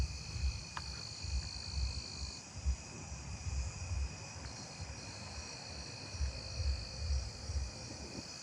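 Narrow-winged tree crickets calling from a tree in a neighbourhood at night, steady high-pitched trilling tones held continuously, with other insects and low background rumble around them.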